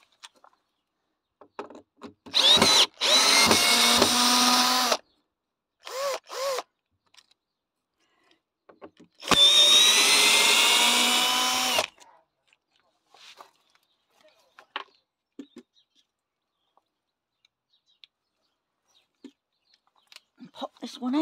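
A power drill drives screws into a trumpet handle. Two loud, close drill runs each last a few seconds, their whine rising in pitch, with short trigger bursts between them and soft handling clicks in the quieter stretches.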